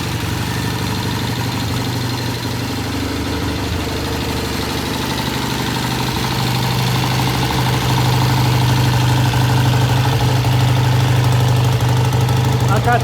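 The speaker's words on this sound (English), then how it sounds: "I started it just to see if it would run, and it does very nicely." A vintage British motorcycle engine idles steadily, set a little high, with a continuous loud, even low throb that grows slightly stronger toward the end.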